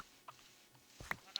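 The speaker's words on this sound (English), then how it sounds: "There's a lot of sheep around here now." Sheep bleat in a video game with a few short, quiet bleats clustered near the end over a soft, low background.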